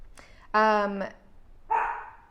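A pet dog barks indoors, a quick yip followed by a burst of rapid barks and then another bark a moment later, close and loud, with no talking over it.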